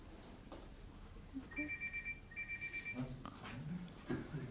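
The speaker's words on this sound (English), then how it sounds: "a journalist's phone keeps going off" A journalist's mobile phone rings during a press conference, giving two short bursts of a high electronic ringtone amid room murmur and some faint speech.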